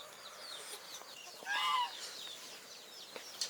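Roosters on a chicken and duck farm, clucking and chattering in overlapping bursts with one louder squawking call in the middle, fairly close with no voices.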